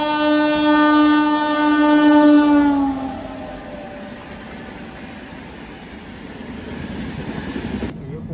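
A Kumbh Mela special train pulls out with a long horn blast that fades after a few seconds into steady rolling rumble and clatter, loud and close.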